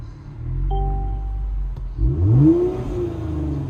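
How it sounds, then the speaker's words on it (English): A car engine revs up in neutral with the throttle blipped, climbing in pitch to a peak around mid-clip and then settling back to a steady rumbling idle, close and loud with no talking. "Try to rev it up in neutral."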